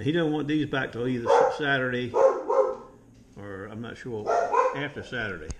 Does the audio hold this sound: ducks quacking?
no